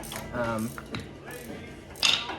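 A ratchet works loose the brake caliper bracket bolts on a Chevrolet Silverado, making short, close mechanical clicks and creaks over a few strokes, with some clanking metal and workshop background noise.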